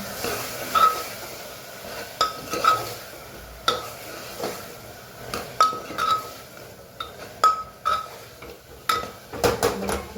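Potatoes and spices being stirred in a cooking pot, with repeated utensil clinks and scrapes against the metal over a soft sizzle, close and moderately loud, no talking.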